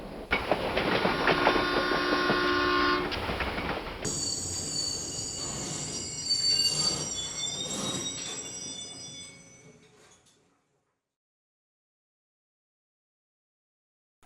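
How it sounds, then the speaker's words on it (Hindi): A train rolls along with steady clattering and high wheel squeals, then slows and comes to a halt, leaving near silence for the last few seconds. "ये ट्रेन क्यों रुक गई?"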